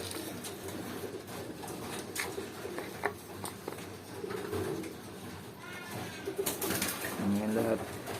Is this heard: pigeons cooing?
yes